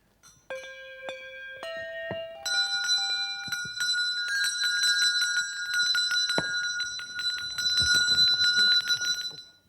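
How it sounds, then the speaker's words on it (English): Church bells ring out one after another in a descending scale, the pealing thickening into a dense, layered wash of overlapping tones that carries on loudly to the end. "the ringing of church bells"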